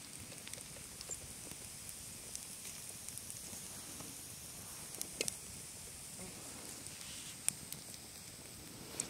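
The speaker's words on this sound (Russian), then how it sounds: "звук костра на фоне." A quiet campfire crackles at an overnight hiking camp, with scattered faint pops and snaps over a soft, steady hiss.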